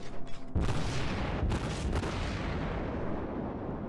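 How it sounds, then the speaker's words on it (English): Salvo from the German heavy cruiser Admiral Hipper's guns in World of Warships, a loud booming blast followed by a second heavy report and a long rumbling decay. "Can I get one more salvo?"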